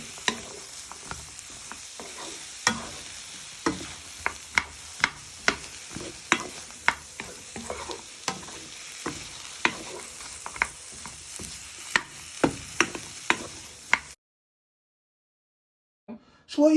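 Food sizzles and fries in a pan while being stirred, with a steady crackle punctuated by repeated scraping and clacking of a utensil against the pan, ending in silence followed by a brief clatter.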